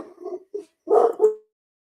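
Dogs barking indoors: a few short, close barks and yips in quick succession, loud and alone, then silence.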